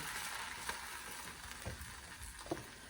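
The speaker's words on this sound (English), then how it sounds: "The most beautiful sound you could ever hear from a cast iron pan." Food sizzles quietly in a hot cast iron pan, a steady crackling hiss with a few sharper pops and spits.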